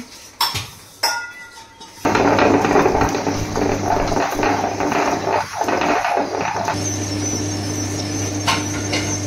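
A kitchen mixer grinder churns fried masala with tamarind and water, a loud steady whirring grind that starts after a few sharp clinks and knocks and runs on with uneven surges.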